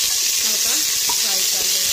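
Cauliflower frying in oil for a masala khichdi, giving a steady, close hiss of sizzling with faint stirring scrapes. No one speaks.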